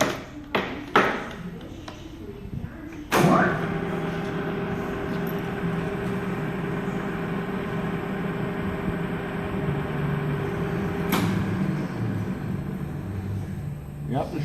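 A Cincinnati Bickford Super Service drill press runs with a steady mechanical hum after a few sharp taps and a loud clunk, as the spindle is set to 60 RPM in reverse for tapping, with a tonal whine holding steady throughout.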